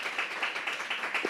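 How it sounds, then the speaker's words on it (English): Brief, light applause from a small group, soft and somewhat distant, with irregular claps. "Can we give Sbo a round of applause?"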